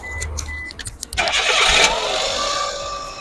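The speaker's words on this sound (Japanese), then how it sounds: "はい、エンジンかけます。" A Suzuki Wagon R Stingray with a stock K6A engine cranks briefly and then catches, settling into a loud, steady idle close by.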